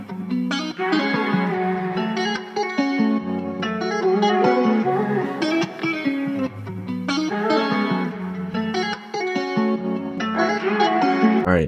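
Sustained guitar sample tones ring out with heavy reverb and echoing delay repeats, dense and continuous throughout, no voices.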